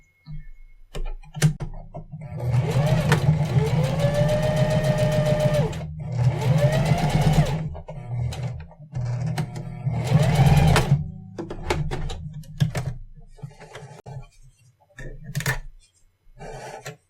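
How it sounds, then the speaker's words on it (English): A sewing machine stitches a seam on a Halloween LED bracelet fabric, running in loud bursts of rapid mechanical stitching separated by short pauses and small handling clicks, close and alone. "then we just simply line that up and sew it"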